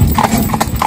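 A small pony wearing about 40 pounds of harness walks along, its hooves clip-clopping in a quick irregular rhythm, close and loud over a rumbling background.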